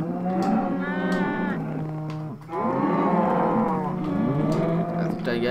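Cows in Minecraft moo several times in close succession, with long, low, wavering calls that overlap one another, loud and near, with a brief dip between groups of calls.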